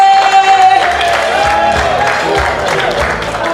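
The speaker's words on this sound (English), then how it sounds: "Wow, big round of applause for" Ugandan community audience applauding for Julie Zawede, a lively round of clapping and cheering under a sustained high tone and voices.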